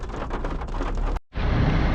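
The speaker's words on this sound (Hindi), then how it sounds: "ऊपर बादल गरज रहे हैं हाँ जी। और बारिश भी हो रही है।" Heavy rain falling in Madinah during a thunderstorm, a dense, loud, steady hiss that cuts out briefly midway, then resumes. No distinct thunder clap stands out.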